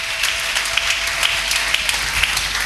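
A church congregation applauds with steady, dense clapping that fills the whole moment at close range, with no pauses.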